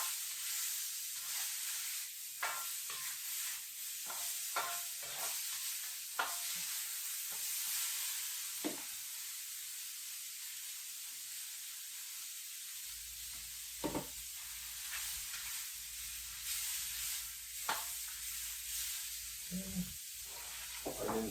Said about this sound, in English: You want to cook the vegetables with just a little bit of something